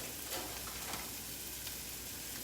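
Cauliflower rice fried rice with frozen peas sizzling in a hot pan, a soft, steady crackling hiss that stays faint and even throughout.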